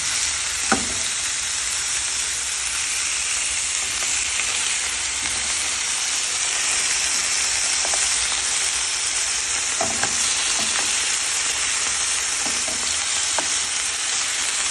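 Steaks searing in a hot pan give a loud, steady, close sizzle that holds for the whole stretch, broken by a few faint taps and clicks as the meat is turned and pressed, with no voices.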